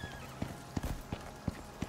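Horse hooves clip-clopping at a steady walking pace in the video game Icarus, fairly quiet, with no talking.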